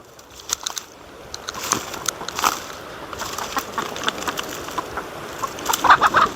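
Hens cluck and chatter close by over an outdoor background, with soft scattered calls growing busier toward the end; crows are nearby.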